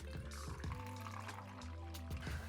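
Clarified piña colada pouring through a coffee filter, a quiet liquid trickle and pour set against low humming tones and faint background noise.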